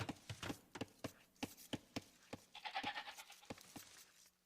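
Goats bleat in a video game, a few soft calls under a steady run of sharp, regular clicking ticks.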